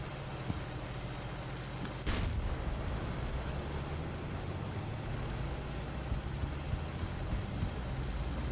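A single loud blast of gunfire in War Thunder, a sharp boom about two seconds in, set against a constant heavy rumble of engine and battle noise.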